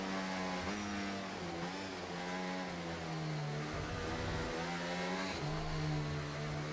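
Mercedes race cars in an online league racing game, round set in China, drone past with high, buzzing engines, revs dipping under braking and climbing again in a continuous, close, layered pack sound.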